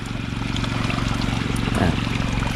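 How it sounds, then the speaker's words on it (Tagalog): Irrigation water flowing along a furrow between calamansi trees, a steady close trickling and gurgling stream under a constant low mechanical hum. "Kaya kung alin lang po yung tudling niya, yan po yung aagos ang tubig"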